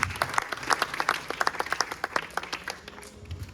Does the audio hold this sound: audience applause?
yes